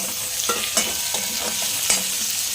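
Onion, ginger and garlic sauté together in a pan for matar paneer, a steady close sizzle broken by several sharp clinks and scrapes of a stirring spoon against the pan.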